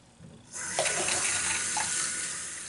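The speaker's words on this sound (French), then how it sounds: "je vais aller me rincer la figure" Tap water runs steadily into a sink as someone rinses their face after a traditional shave, a close, continuous hissing splash that starts abruptly and holds for a couple of seconds with light splashing variations.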